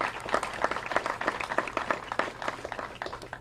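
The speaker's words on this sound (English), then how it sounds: "Give yourselves a round of applause for stepping up and making a difference." Audience applause at an announcement event, a steady wash of many hands clapping at moderate volume throughout, with no voices over it.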